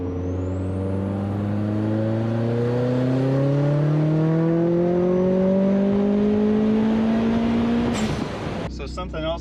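Turbocharged Mazda Miata engine on a dyno pull, a loud strong rev climbing smoothly in pitch for about eight seconds before cutting off abruptly into a clattering release and lower idle.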